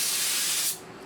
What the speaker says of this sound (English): Spray a little bit of brake clean on it.